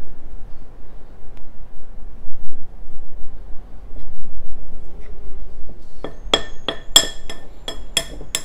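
Flour is mixed into a yeast mixture in a bowl: a low, soft stirring rumble at first, then a quick run of sharp clinks as a utensil strikes the bowl.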